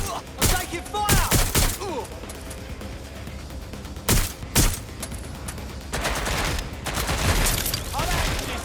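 Gunfire rings out during a firefight in the video game Watch Dogs: Legion, with loud bursts and scattered shots close by, quieter gaps between them, and busy game sound and voices mixed in.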